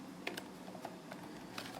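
Light, quick keystrokes on a computer keyboard tap irregularly at close range, a handful of soft clicks over a faint steady room hiss with no voices.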